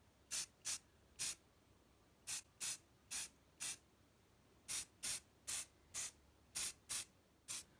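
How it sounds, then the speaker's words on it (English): Short aerosol spray-paint bursts hiss onto miniatures in quick bursts, about fifteen of them in irregular groups, close and crisp against near silence. "Try to spray from above to simulate light, so something like this."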